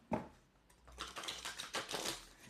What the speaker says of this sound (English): Let's shuffle again one more time.